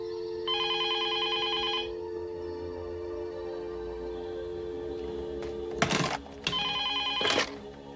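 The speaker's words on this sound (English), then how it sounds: "I want you to answer the phone, Frank." A telephone bell rings in short trilling bursts, two rings separated by a pause, over a steady low hum; a couple of sharp thumps land near the second ring.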